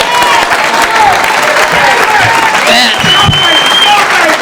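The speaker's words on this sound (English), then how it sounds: "a nice round of applause, Mr. Ray Booker" Loud audience applause mixed with some cheering at a 1987 stand-up comedy show as comedian Ray Booker is introduced, sustained throughout, with voices and whistles coming through the clapping.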